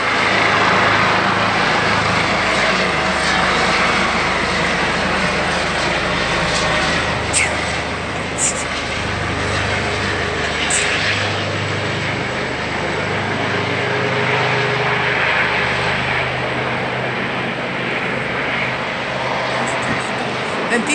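A helicopter circles over a fire scene with fire engines and ambulances, looking for a place to land, a loud steady rotor and engine drone that stays close throughout.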